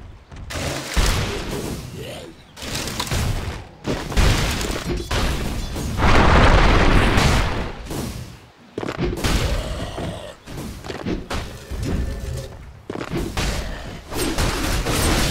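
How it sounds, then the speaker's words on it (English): Fighting at the Radiant team's bottom tower in Dota 2: a dense barrage of booming impacts, bursts and crackling hits in loud clusters separated by brief gaps, with no speech. "Radiant's bottom tower is under attack."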